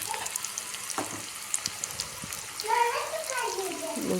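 Onion greens stir-fried with salt in a pan, a soft steady sizzle with scattered clinks and scraping of stirring that grows a little louder toward the end.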